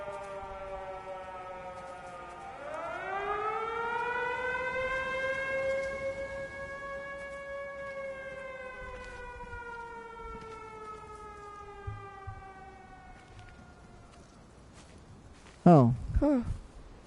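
A siren in the video game Everybody's Gone To The Rapture winds up from about 2 seconds and holds a loud, steady wail with slowly sliding pitch, then fades out, followed near the end by a short burst of another sound.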